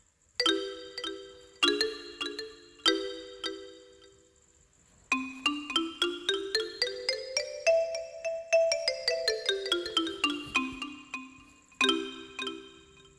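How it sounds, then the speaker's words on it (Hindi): Bright, bell-like xylophone tone from the Perfect Piano app rings out alone, a few separate strikes and then a quick scale climbing and descending, each note short and chiming. "इसके बाद आता है ज़ाइलोफोन।"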